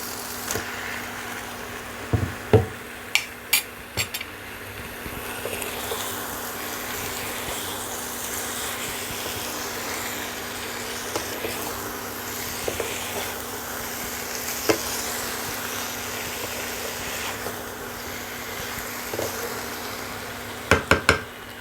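Washed chicken pieces frying in a pan, a continuous moderate sizzle with sharp utensil knocks and clatter early on and again near the end.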